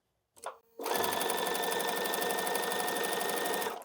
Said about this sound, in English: Notice my hand is not behind pulling the strip through the sewing machine.